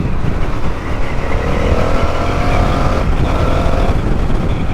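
A 2023 Indian FTR R Carbon motorcycle accelerating hard, the engine note rising in pitch through a short pull with a brief shift near the middle, loud and close.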